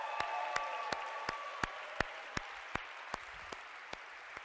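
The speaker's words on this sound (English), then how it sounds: "give them a round of applause" An audience applauds steadily over a rhythmic series of sharp, evenly spaced claps that stand out above a dense wash of crowd clapping, with no talk.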